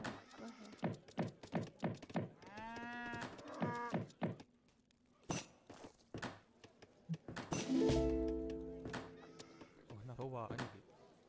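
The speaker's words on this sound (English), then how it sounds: "I'm just gonna eat the cows." Cows mooing in the strategy game Age of Empires III, several drawn-out calls mixed with other animal sounds. Someone talks over them throughout.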